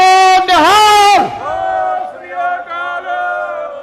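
A large crowd at an Alakh Jagao political rally in Phagwara, Punjab, roars the Sikh jaikara battle cry in loud, sustained unison, then settles into lower, steady massed chanting.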